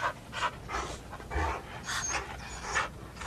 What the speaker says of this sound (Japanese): その時不意に大きな茶色の犬がむっと洞穴へ入ってきた。